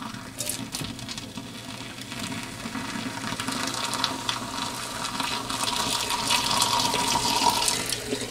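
Oven cleaner splashes and trickles into the burn chamber of a diesel heater, a close, steady liquid pour that grows slightly louder toward the end, with no talking.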